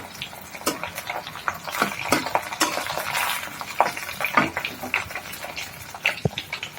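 Chicken strips and other items frying in a home kitchen pan, with close stirring and utensil clatter over a steady sizzle, scraping and clinking coming in irregular bursts throughout.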